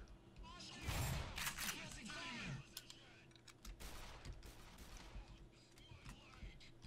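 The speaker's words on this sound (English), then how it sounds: "Are you shooting each other?" Soldiers trade gunfire in the video game Black Mesa, with quiet, scattered shots and short bursts under excited talk.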